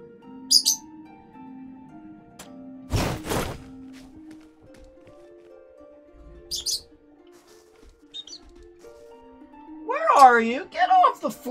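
A pet bird chirps in short bursts: a couple of quick high chirps early on, another near the middle, and a brighter warbling call toward the end, all heard close by over quiet game sounds.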